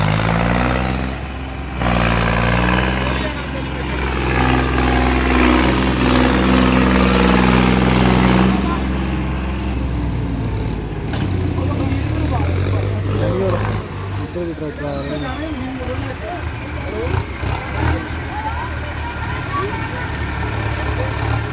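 A tractor engine runs steadily while a river embankment is built against Sutlej floodwater at Sangowal village. It is a loud, continuous drone heard close by, with voices talking over it.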